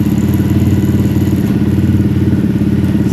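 Honda CRF300LA motorcycle engine running with a steady throbbing, clattering pulse while gears are shifted, loud and close, no talking.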